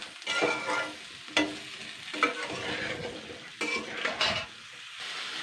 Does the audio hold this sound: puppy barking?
no